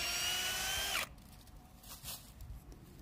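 Power drill with a 5/16 inch bit boring into a sugar maple tree for tapping, a whining motor for about a second that then cuts off, leaving quiet outdoor background.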